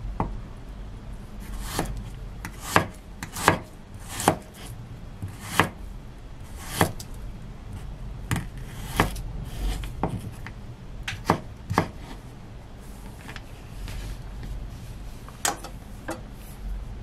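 A knife slices garlic into rings on a cutting board, irregular sharp taps spaced a second or so apart, close up with faint background hiss.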